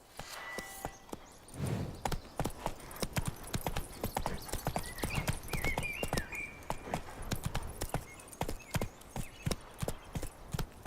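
Horse hooves clip-clop in a steady trotting rhythm in The Witcher 3, close and distinct, with a few faint chirps in the background and no talk over them.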